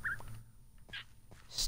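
A Minecraft parrot mimics a creeper, giving short, faint squawks and a hissy burst near the end, scattered over quiet game ambience.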